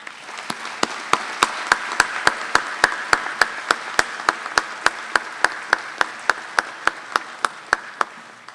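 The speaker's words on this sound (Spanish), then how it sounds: "motivo al público a que los recibamos con un fuerte aplauso" An audience applauds steadily, with sharp rhythmic claps ringing out in a regular beat above the general clapping.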